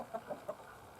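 Backyard laying hens give a few short clucks close by, three quick soft calls followed by quiet.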